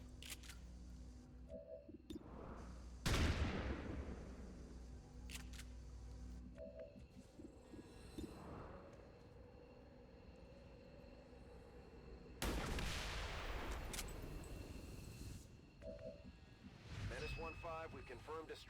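Gunshots from XCOM: Long War of the Chosen, with a sharp, loud shot followed by a long rumbling tail, a second powerful blast later, and softer clicks and effects between them, all under a talking voice.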